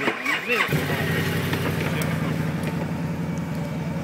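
A car engine cranks briefly and then catches, settling into a steady, rough mid-pitched idle that runs loud and close for the rest of the moment, with a few faint knocks and clicks on top.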